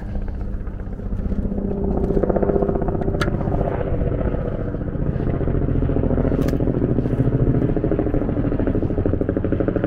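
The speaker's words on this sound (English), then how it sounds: "I get so excited when I hear helicopters because I think news is happening somewhere." A helicopter passes overhead near an abandoned pier in South Philadelphia, its rotor giving a steady, loud, rapid thudding chop that persists throughout, with faint clatter beneath.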